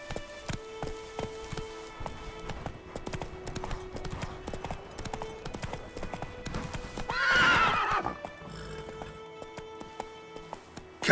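Roach, the horse in The Witcher 3, gallops with rhythmic clip-clop hoofbeats and lets out a clear neigh midway, under game music with a brief spoken voice nearby.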